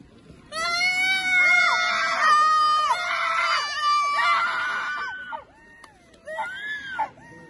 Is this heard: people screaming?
yes